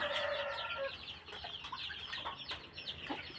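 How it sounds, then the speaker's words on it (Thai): A chick peeps close by, a run of high chirpy peeps and scattered short calls among clucking chickens over a farmyard background. "ลูกไก่ อยู่หนึ่งตัวนะครับ"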